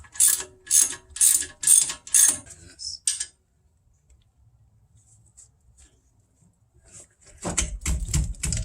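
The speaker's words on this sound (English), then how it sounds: "You put a 13 millimeter socket on there and a 15 on the" Ratchet with a 13 mm socket on an Audi A4 B8 rear brake bolt clicks in five quick close bursts, then falls almost silent before a louder rattling burst at the end.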